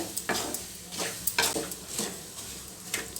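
Salted peanuts are fried and stirred in a pan, making rhythmic scraping strokes about twice a second over a soft, even sizzle, fairly quiet and close.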